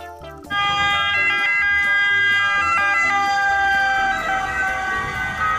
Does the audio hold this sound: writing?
no